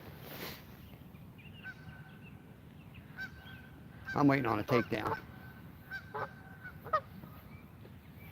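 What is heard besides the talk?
goose honking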